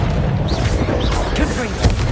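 Bombarda and Confringo spell explosions boom in the Hogwarts Legacy video game. Dense, loud blasts and rumbling fill a busy combat soundscape, with a voice calling out over them.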